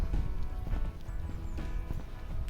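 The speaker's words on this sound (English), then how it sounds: "Horses are up here as well." Horses clip-clopping along a village path in Small Dole, a steady run of hoof clops on hard ground, fairly close over outdoor background noise.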